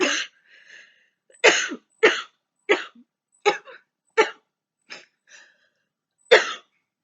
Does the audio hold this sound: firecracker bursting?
no